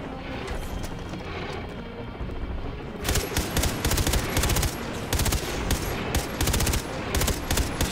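Rapid automatic gunfire in the video game Far Cry 3, aimed at a dog, comes in loud repeated bursts with short pauses between them, after a few seconds of rumbling game ambience.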